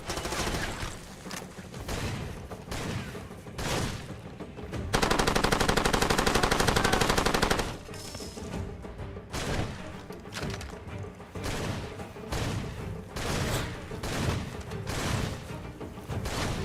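Sustained gunfire in the video game Far Cry 2: dense bursts of rapid automatic shots, loud and close, with a continuous unbroken burst in the middle and scattered heavy impacts around it, no talk.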